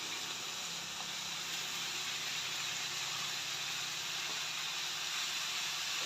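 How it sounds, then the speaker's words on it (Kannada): Gongura leaves frying in oil give off a continuous, even sizzling hiss, close and steady without breaks, with no talking over it. "ಇವಾಗ ಚೆನ್ನಾಗಿ ಫ್ರೈ ಆಗ್ತಾ ಇದೆ"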